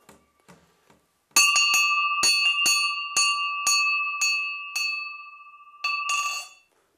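A small cast bronze bell, like one for a large residence's entrance door, struck about a dozen times in quick irregular succession, each clear metallic ring sustaining a bright tone, loud and close, with a few faint taps before it.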